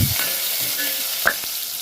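Chopped carrot, green chillies and onion frying in a pan for mung bean dal, a steady close sizzle with a few scraping stirs of the spoon against the pan.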